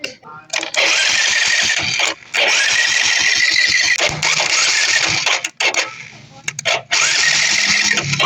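A Bajaj Rouser 135 motorcycle's electric starter cranks in repeated loud bursts with brief pauses between attempts, a rapid rhythmic whirring that never catches, while someone talks over it.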